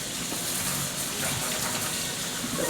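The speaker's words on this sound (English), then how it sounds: "you want to just rinse it with some cold water" Cold tap water runs steadily over lettuce in a kitchen strainer, a constant close rushing hiss with no talk.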